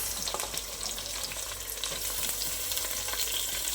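Carrot, potato, beans and peas fry in a pan for veg biryani, a close crackling sizzle with stirring scrapes over a low steady hum, no talk.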